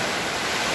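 Strong typhoon wind roars together with heavy rain in a dense, constant wash of noise, loud and close, with no pauses.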